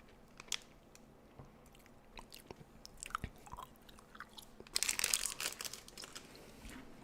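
Close-miked chewing of rock-hard gummy candies: scattered sticky bites and clicks build to a louder burst of crunching midway, then ease off, with no voice.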